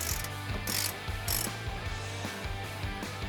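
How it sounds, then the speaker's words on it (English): A ratchet wrench rapidly clicks while removing nuts from the passenger-side bumper beam of a BMW i4, a close, continuous mechanical ratcheting with a few brief pauses. "Now we can remove the nuts on the passenger side bumper beam."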